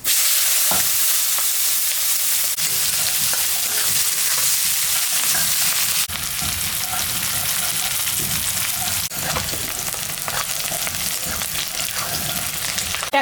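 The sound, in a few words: onion, cumin and dried chili frying in oil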